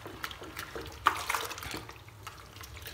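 Sour porridge flour is stirred into warm water, making faint, close sloshing and liquid swirls with a few soft splashes and taps against the pot, with no talk.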